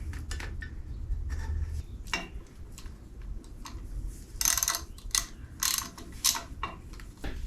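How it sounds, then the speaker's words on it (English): A wrench tightens bolts on a Pontiac 350 engine, making scattered metallic clicks and clanks up close with a low hum underneath, and sharper, louder clinks toward the end. "I just need to torque them down 30 foot-pounds."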